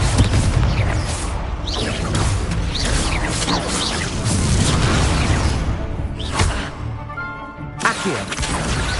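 Fiery Confringo spell blasts in Hogwarts Legacy, a dense run of booming impacts and crashing bursts with whooshing spell effects, loud and continuous throughout amid game music.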